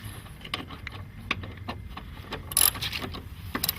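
Socket wrench tightening the battery terminal bolts on a 2012 Kia Soul, giving a run of quiet, irregular mechanical ratcheting clicks and metal taps at close range, with a brief louder burst partway through.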